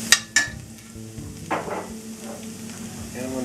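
Two big cloves of garlic cook gently in olive oil in a pan, giving a soft steady sizzle with a few sharp utensil clinks near the start and brief stirring bursts, under a low background.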